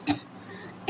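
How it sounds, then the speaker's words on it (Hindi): A man gives two sharp, close coughs, a brief throat-clearing burst at the start and another at the end with a quiet pause between, during a spoken lesson indoors. "सॉरी मुझे खांसी आ गई बीच में।"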